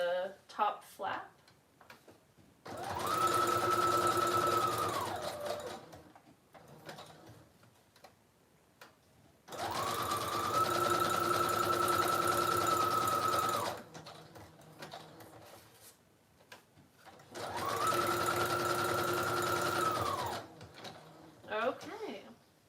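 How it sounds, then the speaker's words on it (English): A sewing machine stitches around the border of a junk journal's top flap: three sustained bursts of fast, even mechanical whirring, each lasting several seconds, separated by quieter pauses with light handling noises. "Then I like to sew around the border of the top flap."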